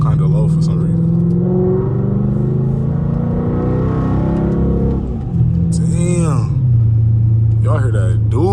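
A second-generation Dodge Charger R/T rumbles and revs while driving, a loud deep engine drone rising and falling, with excited talk over it.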